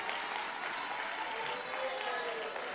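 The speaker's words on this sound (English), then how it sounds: "Comrade David Makura, we thank you and applaud you" Steady applause from the audience at an ANC national political conference, a dense wash of clapping throughout the short stretch, with faint crowd murmur under it.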